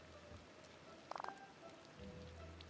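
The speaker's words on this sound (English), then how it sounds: "It's just when I'm that zoomed out, all you can hear is rain." Steady rain and light wind fill a zoomed-out view in a Disney video game, a soft continuous wash with a brief cluster of bright chimes in the middle and a low rumble near the end; no music or voices.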